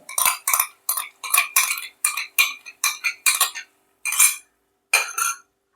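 A spoon scrapes and clinks against a pan while stirring sauce into chili soybean, a series of short, separate strokes, close and fairly loud with pauses between.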